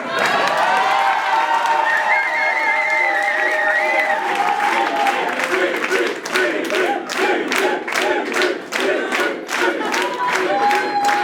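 An audience at a birthday celebration claps and cheers loudly, first a sustained wash of shouts and whoops, then rhythmic clapping in unison taking over as the cheering fades.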